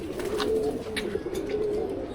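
Pet pigeon in a breeder's loft cooing softly, a low drawn-out coo heard close, with light background noise and no talk over it.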